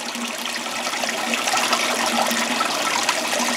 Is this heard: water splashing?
yes